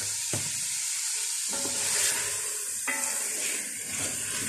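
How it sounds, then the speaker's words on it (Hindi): Chicken nihari masala frying in oil, giving a close, continuous hiss and crackle broken by a few sharp spoon taps and stirring scrapes. "जब तक हम ये ऑयल मसालेजात अलग ना हो जाए तब तक भूनेंगे"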